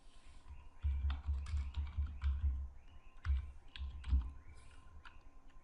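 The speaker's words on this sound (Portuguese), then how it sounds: "Aperta o Tab aqui, ó, para ir lá para cima do OK." Fingers typing on a computer keyboard while configuring a database server, a steady run of close, dense key clicks with brief pauses, no talking.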